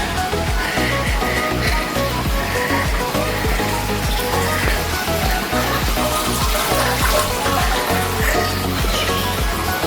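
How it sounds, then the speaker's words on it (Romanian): Steady running water, likely from a garden fountain, forms a continuous dense wash at even loudness, with no talk over it. "Auziți apa?"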